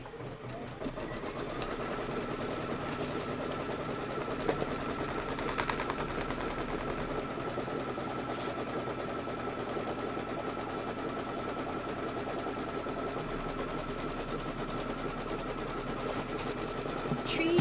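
An embroidery sewing machine stitches a quilting design through fabric and batting, a fast steady mechanical chatter running continuously at moderate level with a faint voice now and then underneath.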